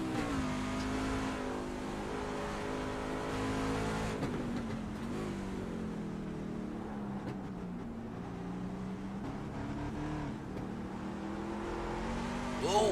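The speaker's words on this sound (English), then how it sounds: "oversteer as he gets on the gas" Short track Superleague race truck on fresh tires, engine droning and rising steadily as it accelerates through a run, continuous and moderately loud from an onboard position, with no talk.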